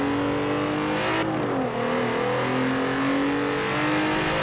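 A VW MK4 R32 in Forza Horizon 4 revs loud and close, its engine tone climbing, dipping briefly as it shifts, then rising again in a steady, throaty drone.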